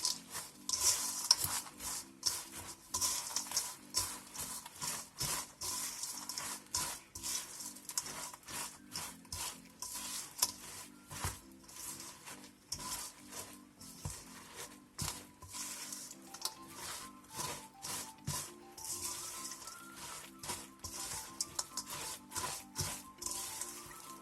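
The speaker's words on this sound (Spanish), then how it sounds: "Y vamos a remover muy bien." A chocolate salami mixture with milk being stirred steadily in a bowl, a continuous close scraping and rubbing with irregular strokes, alone with no talk.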